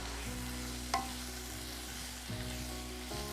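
Mushrooms seasoned with salt and pepper fry in a pan with a steady, close sizzle and occasional stirring clinks, with no voices.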